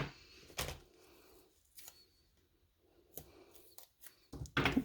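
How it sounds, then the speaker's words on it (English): Scissors snipping paper strips while making a folded greeting card, a few short separate cuts spread across a quiet tabletop scene. "And cut a couple of strips here."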